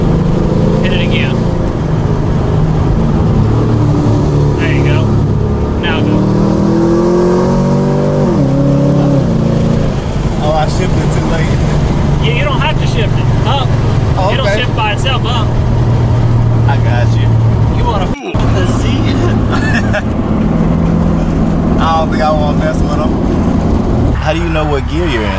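A V8-swapped car revving hard and pulling through its gears, a loud, close engine roar that climbs and drops repeatedly, with people talking over it and one sharp break partway through.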